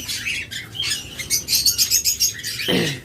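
Pet birds at a bird farm, lovebirds and cockatiels of local breeds, call close by in a rapid series of sharp chirps and squawks.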